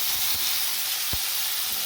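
Onion, tomato and peas fry in a pan with a steady, soft sizzle and faint hiss. A brief stir or clink is heard and no one speaks.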